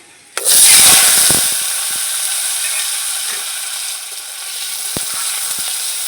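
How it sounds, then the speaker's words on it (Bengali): Diced potatoes hit hot oil with bay leaf and cumin and burst into a loud sizzle that settles into a steady frying hiss, with a few sharp clacks of a spoon against the pan. "আলুটা একটু লাল লাল করে ভেজে নেবো"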